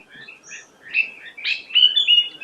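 Wild birds singing in a Himalayan forest near Nainital, Uttarakhand: several high, thin chirps and whistled phrases close by, growing busier and louder toward the end against a quiet background.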